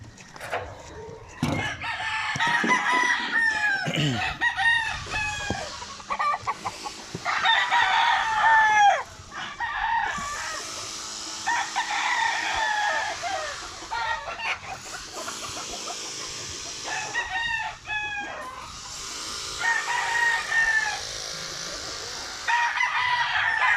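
Young Nokma gamefowl chickens crow repeatedly and cluck in a farm setting, several birds calling loudly and close in overlapping bursts throughout.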